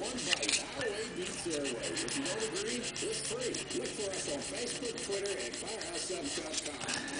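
Folded half-inch-wide strip of sandpaper rubbed back and forth in quick, even rasping strokes, close and steady, with a voice talking in the background.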